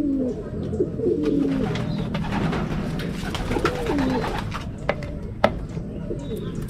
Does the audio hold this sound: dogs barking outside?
no